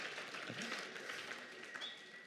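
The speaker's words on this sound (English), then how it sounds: "you can clap. You can clap. Bring it in." An audience clapping in a hall, a steady wash of applause that holds at an even, moderately loud level throughout.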